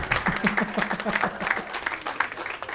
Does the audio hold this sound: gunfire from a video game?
no